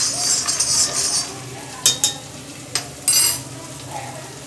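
Makhana (fox nuts) cook in ghee with salt in a pan, giving a soft steady sizzle broken by a few sharp clinks of a utensil against the metal.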